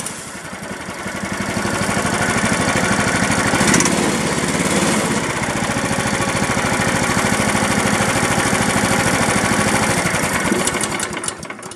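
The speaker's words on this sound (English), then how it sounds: "I got the spark plug in, so it should fire up." Briggs & Stratton small engine with magnetron ignition and exposed flywheel starts after a spark plug is installed, then runs loud and steady with a buzzing rattle for several seconds before winding down at the end.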